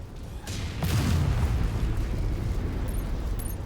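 A video game explosion as a target is destroyed in MechWarrior 5, a deep rumbling boom that swells after a sharp onset and rolls on loudly for several seconds.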